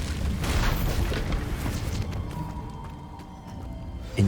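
Incendio fire spell cast in Hogwarts Legacy, a loud booming burst with a rumbling fiery roar that stays dense for several seconds, then thins before a final sharp pop.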